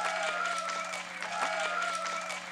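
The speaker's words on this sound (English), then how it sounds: "Give them a round of applause." An audience at a Moon vs. Mars debate event at HMNS claps steadily for a couple of seconds, a moderate, even patter of many hands with faint crowd noise, no talking over it.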